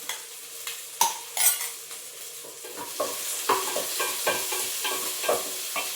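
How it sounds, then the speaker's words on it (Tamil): Onions sautéing in a pan for kudal gravy, a constant close sizzle broken by repeated sharp spatula scrapes and stirring knocks, no talk. "வெங்காயம் நல்லா வதங்கிட்டு இருக்கு."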